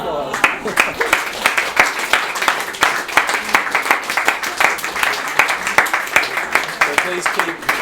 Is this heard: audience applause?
yes